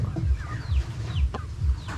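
Backyard chickens, some of them gamecocks, cluck in repeated low bursts on a rural Philippine property, several birds close by, with a few higher chirps and calls mixed in.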